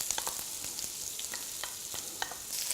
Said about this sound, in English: Get that oil nice and hot. And the first thing you put in there is the onions.